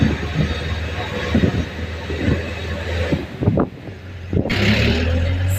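Vehicles squeeze past each other on a narrow forest road to Ooty, giving a close rumbling engine drone with a louder swell as one passes, then a fresh engine note rising near the end.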